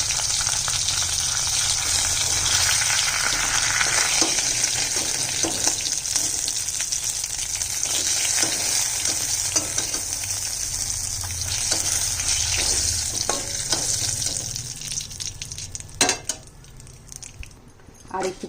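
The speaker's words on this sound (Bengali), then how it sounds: "মাছ ভাজা হয়ে গেছে" Pieces of katla fish fry in hot oil with a loud, continuous sizzle and crackle. Stirring scrapes and a few sharper clatters come near the end, with no talking.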